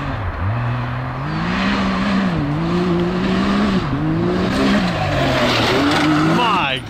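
A Can-Am Maverick X3 XRS RR four-seat long-travel side-by-side roars at full speed on dirt, its engine droning steadily with rising and falling revs as the tail slides out, loud and continuous throughout.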